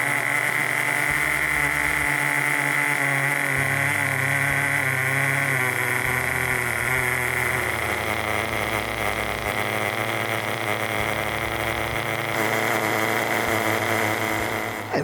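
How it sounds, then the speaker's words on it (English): An FTX Torros nitro RC truck engine runs steadily with a buzzing, high-pitched drone, close and continuous, its pitch shifting slightly as the revs rise and fall. "I know you don't like the noise of the Nitro truck"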